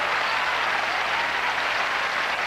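A tennis crowd at the 1984 Forest Hills final between John McEnroe and Ivan Lendl keeps up dense, even applause that fills the whole moment, loud and continuous, with no voices over it.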